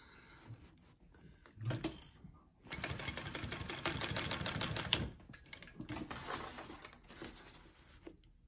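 A sewing machine runs basting stitches on a handbag, its rapid mechanical chatter running in bursts, strongest through the middle stretch, with brief pauses and quieter starts between runs.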